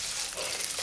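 Fish frying on one side in a pan for a spicy garlic Chinese fish dish gives a steady, close, crackling sizzle, an even broadband hiss with no voices and no pauses.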